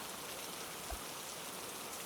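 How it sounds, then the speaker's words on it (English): Steady rain noise from a heavy storm, a dense, even hiss of drops falling throughout with no gaps, fairly quiet and distant-sounding, with one brief soft thump partway through and no voices. "The rain came in torrents, and the wind screamed through the shutters"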